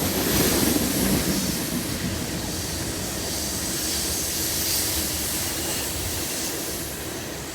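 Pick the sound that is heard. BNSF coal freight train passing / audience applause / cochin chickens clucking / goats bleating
BNSF coal freight train passing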